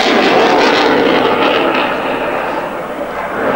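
A Mirage 2000 jet fighter roars loudly and continuously during an air display at the CIAF show in Hradec Kralove, a dense, sustained engine blast that eases slightly as it passes.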